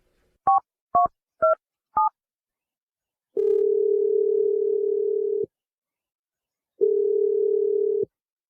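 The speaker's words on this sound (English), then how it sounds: "I'm ready to dial her number right now" Four quick touch-tone keypad beeps, then a steady telephone dial tone that runs about two seconds, pauses, and returns, all clear with no talking.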